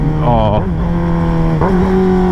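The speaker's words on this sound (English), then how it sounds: "To me, it sounds like having this new exhaust on it sounds kind" A 2021 Kawasaki ZX6R motorcycle fitted with a new aftermarket exhaust idles with a loud, steady, close engine drone that dips and recovers briefly twice.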